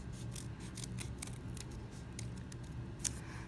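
Scissors snip through folded paper to cut a snowflake, a run of crisp, close cuts in quick uneven succession with a sharper snip near the end and no voices.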